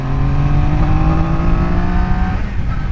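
A Triumph Daytona 660 motorcycle accelerates hard, its engine pitch climbing steadily through the revs with loud, close wind roar before easing off near the end.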